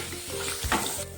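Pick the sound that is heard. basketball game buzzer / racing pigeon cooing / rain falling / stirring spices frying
stirring spices frying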